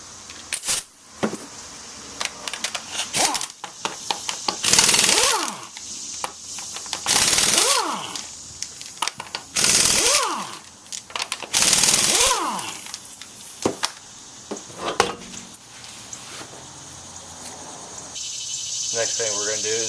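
Pneumatic impact wrench removing the wheel from a 2002 Ford Focus for wheel bearing replacement, several loud rattling bursts of a few seconds each separated by clinks and handling noises in a garage.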